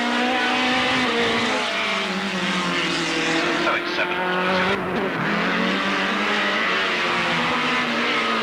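Race cars roaring down the start straight at Alwalton Raceway in a 1983 race, a sustained loud engine whine with shifting pitch as cars pass, with a commentator talking over it.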